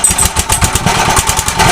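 A machine starts up and runs during fitting of a 1 kg liner with an overflow pipe attached, giving a loud, close, steady chugging of rapid, even mechanical pulses.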